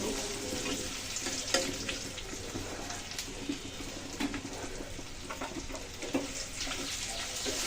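Water is poured into a pan of fish curry with raw banana and potato, a steady rushing splash mixed with a soft sizzle that carries on for several seconds, fairly quiet.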